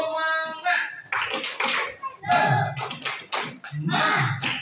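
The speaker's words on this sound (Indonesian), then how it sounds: "Tepuk semangat." Indonesian schoolchildren in a classroom do a rhythmic spirit clap, sharp hand claps in patterned bursts mixed with their voices chanting, loud and close.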